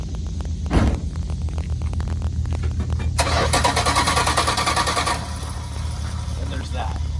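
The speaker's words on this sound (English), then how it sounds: "I love that sound too, the starter." Starter cranks a car engine, a loud grinding whir of about two seconds over a rumbling idle background, preceded by a short thump.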